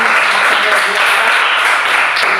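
Students applauding a group's presentation in an Indonesian classroom, a brief, dense burst of many hands clapping together, loud and continuous, with voices mixed in.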